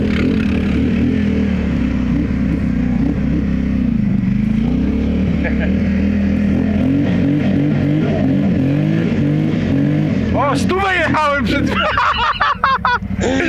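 A HiSun Sector 550 UTV drives among trees on a hill climb, its rear wheels spinning without a rear differential. A steady engine drone runs throughout, with sharp revving near the end, under people talking.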